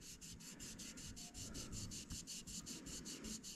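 An AR-15 lower receiver is rubbed back and forth with a rubbing alcohol wipe, giving a rhythmic, even swishing of roughly five strokes per second, quiet and close.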